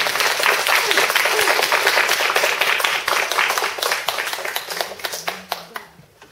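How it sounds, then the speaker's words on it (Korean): Audience applause at a Korean lecture event, a dense wash of clapping from a crowd that holds steady, then thins and trails off into scattered claps near the end. "박수가 조금 부족한가 봐요."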